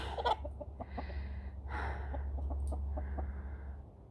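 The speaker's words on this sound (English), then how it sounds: "those roosters are so big." Several roosters cluck in short bursts over a steady low hum, with a louder squawk near the start and scattered clucks throughout.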